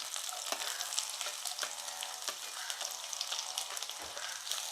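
Shallots drop into a pan of frying coconut pieces, setting off a soft, continuous sizzle with scattered crackles and the scrape of stirring, all close and quiet with no one speaking.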